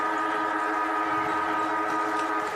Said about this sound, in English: Jalen Clark's tackled as the siren goes